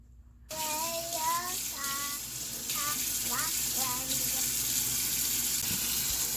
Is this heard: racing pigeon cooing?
no